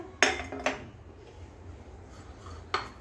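A utensil clinks and scrapes against a bowl while cumin powder and finely chopped green chillies are mixed into methi paratha dough: a few quiet, sparse knocks, two close together early and one more near the end.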